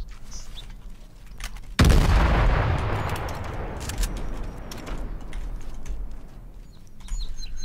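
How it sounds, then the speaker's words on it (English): A loud explosion in the online shooter H1Z1, a sudden heavy boom with a long decaying rumble, followed by scattered gunshots and faint crackling in the background. "I hear a lot of explosions and everything."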